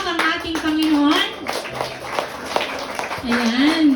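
A congregation claps loudly during a Sunday worship service, a dense spatter of hand claps mixed with a leader's voice talking over it.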